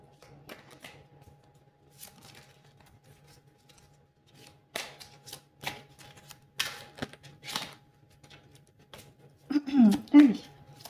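Tarot cards are shuffled by hand in soft, irregular riffles and slaps that grow louder toward the end, against a quiet room with a low hum and a voice speaking briefly near the close.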